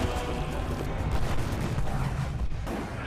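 Ottoman cannon artillery fire in a battle against the Hungarian kingdom's cavalry, heard as a dense, continuous roar of booms and blasts, loud throughout with no clear gaps.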